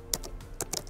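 Quick close taps of typing on a computer keyboard, about six sharp keystrokes in an uneven rhythm, with no voices present.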